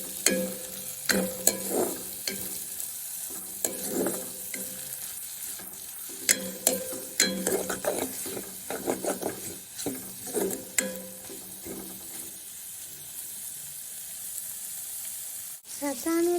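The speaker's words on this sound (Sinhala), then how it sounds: "දැන් මේක හොඳට කලවම් කරගන්න ඕනේ." Eggs being stirred into water spinach (kangkung) frying in oil: a steady close sizzle with repeated scraping, clattering strokes of a spoon against the pan in uneven bursts, quieting toward the end.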